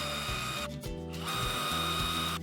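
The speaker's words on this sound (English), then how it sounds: "Put your drill bit on that pilot hole." A power drill bores a pilot hole for wall anchors when refitting a loose toilet roll holder, giving a steady, close mechanical whirring with a brief dip partway through and no talk.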